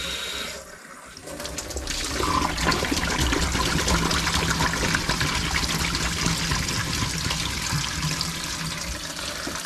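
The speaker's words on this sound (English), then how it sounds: "Now every time I rinse it out, I should be able to see exactly how much I've got left to get rid of" Water rinsing steadily through a Briggs water pump, a continuous close splashing and trickling wash that dips briefly near the start, then runs strong with no talk.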